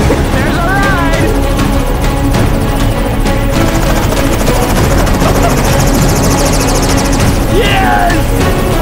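A helicopter flies close by with a loud, steady rotor roar that fills the whole clip, with people talking and shouting over it.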